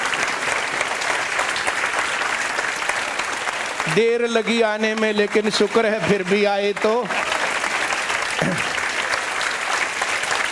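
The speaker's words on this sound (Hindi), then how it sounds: "ताली जोरदार होनी चाहिए भाई।" Students clap to welcome a BJP state president on his arrival, a broad round of applause that runs throughout while someone speaks over the middle part.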